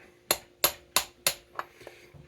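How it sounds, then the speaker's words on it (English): A small ball peen hammer taps a crank seal into a Stihl MS460 chainsaw crankcase: four sharp, evenly spaced metallic strikes up close, then a few lighter taps. "A little ball peen hammer, because it doesn't really matter."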